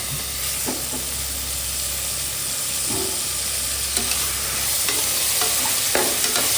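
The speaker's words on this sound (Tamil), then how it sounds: "நல்லா தக்காளி சேர்த்து வதக்கி விடுங்க." Salted onion and tomato are sautéed in a frying pan. A steady hiss of frying runs throughout, broken by occasional scrapes and knocks as a spatula stirs the mixture, close and fairly loud with no voices.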